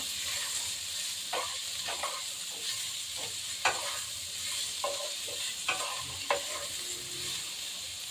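Beetroot and carrot curry stirred in a pan after salting, a soft steady sizzle under repeated scraping strokes of a spoon against the pan, close and fairly quiet, with no voices.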